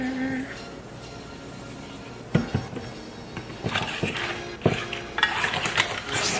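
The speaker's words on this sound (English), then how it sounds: "Just mix it all up." Vinegar, salt and sugar get stirred together for pickling radishes, with spoon-on-bowl clinks and scrapes in a few distinct bursts over a background hum; a voice talks faintly at times.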